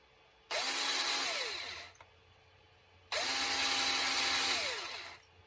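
A small drill boring into a plastic Tron action figure's arm whirs in two bursts of about one and a half seconds each, its pitch rising and falling as it spins up and slows down.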